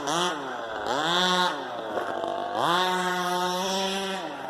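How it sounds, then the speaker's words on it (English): A remote control race car fitted with a small weed eater engine revs up and down in two long buzzing bursts, its pitch climbing and falling steadily, loud and close. "They fly them around there, and little weed eater engines on them."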